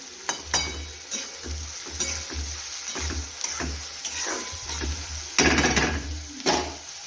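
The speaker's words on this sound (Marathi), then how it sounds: "सर्व कांदा आपला टाकून झालेला आहे छान फ्राय करून घेऊ" Chopped onions fry in hot oil in a pan while a spoon or spatula scrapes and stirs them in irregular bursts over a soft sizzle, close up with no talk.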